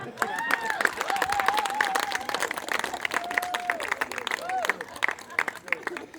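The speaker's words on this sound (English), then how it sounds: "So we'd appreciate if everyone could give us an applause now." Wedding guests clap in a steady, lively round of applause that fills the room, with a voice and crowd murmur heard over the clapping.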